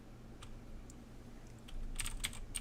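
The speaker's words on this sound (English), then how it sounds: "I might type in some search" Computer keyboard typing a search, heard as a short cluster of light, quick key clicks near the end over a quiet room hum, with no talking.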